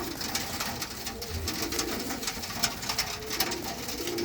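Pigeons for sale coo continuously at close range, several soft low calls overlapping in a steady murmur.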